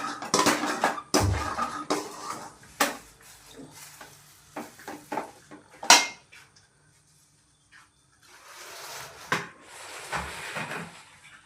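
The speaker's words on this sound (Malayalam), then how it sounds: "കുരുമുളക് പൊടി ഇട്ട് നമുക്കൊന്ന് ഇളക്കി വിടാം" Chicken being stirred in a pan after pepper powder is added, heard as scattered clinks and scrapes of utensil against cookware, some sharp and close, with quiet gaps between bursts of kitchen clatter.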